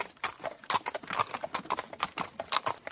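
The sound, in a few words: horse and carriage clip-clopping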